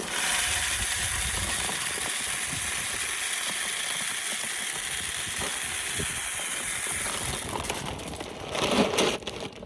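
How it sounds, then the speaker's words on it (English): Dried corn pours steadily into a homemade PVC hog feeder tube, making a continuous dense rattling and hissing rush of kernels that lasts several seconds before tapering off with a few louder clatters at the end. "all you got to do is now fill it with corn"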